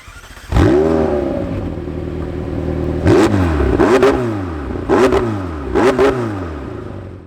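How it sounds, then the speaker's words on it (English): McLaren 720S Spider twin-turbo V8 with the McLaren Sport exhaust, a 2020 convertible supercar, starts up with a loud flare and then gives four sharp throttle blips that each rise and fall, close and alone with no talk. "Take a listen to how this V8 sounds."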